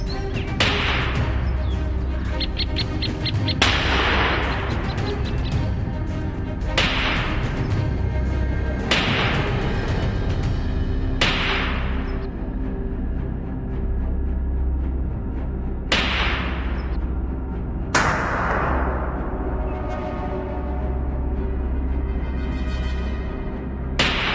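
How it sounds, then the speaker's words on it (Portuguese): Loud rifle gunshots crack repeatedly in a forest during a wild boar hunt, sharp reports each followed by a long echoing decay, spaced every few seconds over a steady low background rumble. "Os disparos ressoavam regularmente pela floresta"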